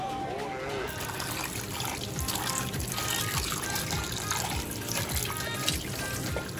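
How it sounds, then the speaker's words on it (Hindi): Weak, uneven trickle of water from a tap, a steady faint flow running under background household sounds. "पानी भी हल्का आ रहा है, कभी आता है पानी कभी आता है नहीं,"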